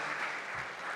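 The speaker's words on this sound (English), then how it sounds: "Please give them a round of applause." A conference audience at an IMF research event claps for the panel, a dense, even burst of applause filling the whole moment with no voices.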